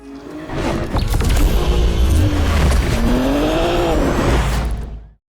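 A car fitted with an aftermarket Track Dog Racing intake accelerates hard, its engine note climbing and dipping through gear changes, loud and close, then cutting off abruptly at the end.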